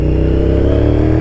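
Honda VTR 1000 litre motorcycle in rough condition, close and loud engine revving with a pulsing throb and faint crackles from the exhaust over a brief stretch.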